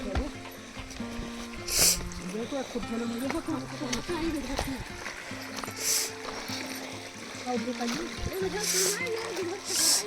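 Feet wading through a shallow, cold mountain stream in a forested Pahadi hillside, steady splashing and sloshing of water with a few sharper splashes, close by while people talk over it.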